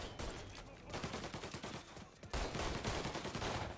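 Automatic rifle fire in the video game Mafia Definitive Edition, a dense, loud broadband crackle of rapid shots that dips briefly near the middle and then swells louder again.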